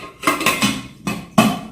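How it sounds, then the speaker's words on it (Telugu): A stainless steel lid is set onto a Star brand 2.5-litre triply stainless steel pressure cooker, giving a few close metallic clanks and scrapes in quick succession. "సో ఇలా లిడ్ పెట్టేసుకుంటా."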